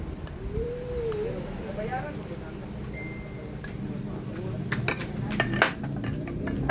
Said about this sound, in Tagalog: Lang i-mix ang peanut butter ug saging